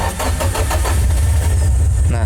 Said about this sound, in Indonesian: Kita cobain lagi ya, bisa hidup nggak ya tanpa dikocok-kocok gasnya.